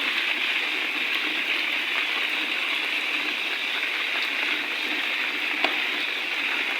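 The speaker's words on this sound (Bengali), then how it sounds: "বৃষ্টি পড়তেছে তার কিন্তু বৃষ্টির আওয়াজও অনেক" Heavy rain pours steadily in an even, hissing wash that stays constant throughout with one faint tap, no talking.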